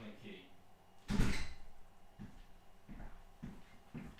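A door is opened indoors to let a cat in: one loud scraping thud near the middle, then softer knocks and shuffles, all close, with a voice talking over it.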